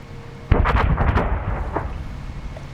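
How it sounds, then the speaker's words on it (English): A heavy gun fires during a Star Wars Kamino video game battle: a sudden loud blast followed by a rolling, rumbling boom that trails off over a couple of seconds, with a few smaller thumps inside the decay. "There's a gun now firing."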